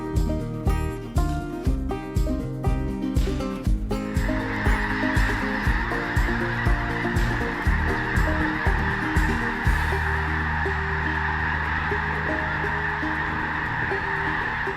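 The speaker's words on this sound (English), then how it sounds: "the awesome spectacle that is the snow goose migration" Snow geese honking during a late fall migration, a dense chorus of many birds calling in rapid overlapping honks, loud and continuous, joined partway by a steady wash of background noise, with no talk.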